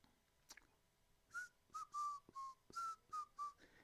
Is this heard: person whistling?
yes